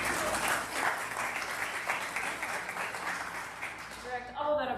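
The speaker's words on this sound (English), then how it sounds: "Direct all that applause towards our local experts here today." Audience applause greets local expert panelists at a youth mental health forum in Bexar County: dense, steady clapping from a crowd, fading out near the end as a voice begins to speak.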